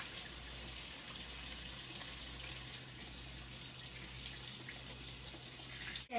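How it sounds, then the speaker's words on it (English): Tap water runs steadily into a sink for hand washing before making pizza, a continuous broadband hiss with low hum underneath, close and alone without speech. "You wanna wash your hands."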